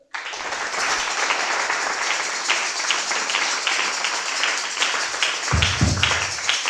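A church congregation applauding during a sermon, sustained loud clapping from many hands that starts abruptly and carries on steadily, with a few low voices near the end.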